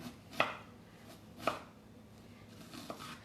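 A knife chopping an onion on a cutting board, three distinct sharp chops spaced about a second apart, close and clear against a quiet background.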